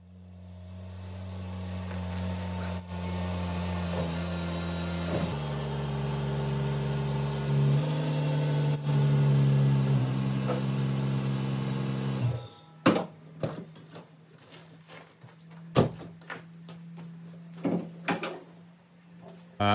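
A BMW 135i engine hums steadily at low revs for several seconds while pulling in, then cuts off, leaving scattered clicks and knocks of handling nearby; no talking.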